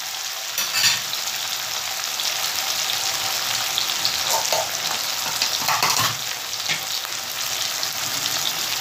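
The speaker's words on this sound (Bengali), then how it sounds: "এটা ভালো করে একটু ফ্রাই করে নেব" Chili and tomato fry in oil in a pan, giving a steady, close sizzle with brief louder crackles as they are stirred, and no voices.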